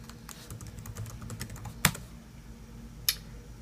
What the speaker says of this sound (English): so I need to type in my password again.